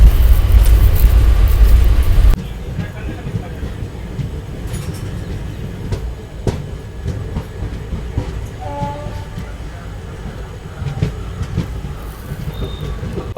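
Jhansi–Kanpur special passenger train pulling into Kalpi station: a loud low rumble for the first two seconds drops to a steadier, quieter rolling hum, with faint metallic squeals and clanks from the slowing carriages.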